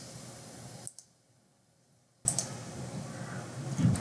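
A computer mouse is right-clicked in data software: a couple of crisp clicks near the start, a short silence, then another sharp click over faint room hiss, with no talking.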